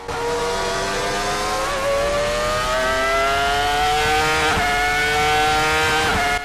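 Screaming V10 engine of a futuristic 2025 Formula 1 car lapping Monza in a racing video game, sustained high-pitched wail rising steadily through the gears with a few quick shift breaks, loud and close, no voices.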